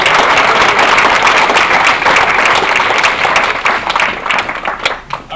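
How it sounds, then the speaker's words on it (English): Loud, dense applause from a large crowd at a graduation ceremony, a continuous wash of clapping that holds strong for several seconds before thinning and tapering toward the end. "So if we can just give a round of applause to you guys."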